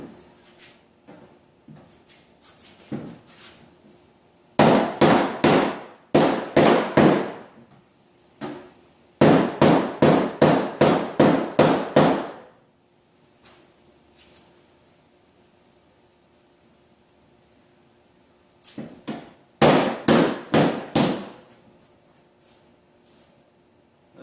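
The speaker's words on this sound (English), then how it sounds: "I can't go any further with the rubber hammer" Rubber hammer striking the sharp crown of a damaged panel on a 2017 Toyota Camry during front collision repair, with a dolly held behind it: rapid bursts of sharp, close knocks in runs of five to eight, separated by pauses.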